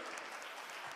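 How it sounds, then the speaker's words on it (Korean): Audience applause fills a hall at a robot newspaper's 10th-anniversary celebration gala: dense, steady clapping at close range with no pause, and no voices over it. "오늘 정말 모든 열정을 쏟아주신 화려팀에게 다시 한번 큰 박수"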